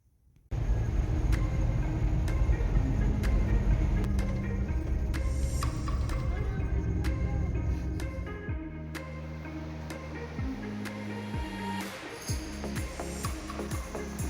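A car rolls along a road with a steady low rumble of engine and tires, joined by sharp ticking clicks and a few tonal pings from inside the cabin, and no speech.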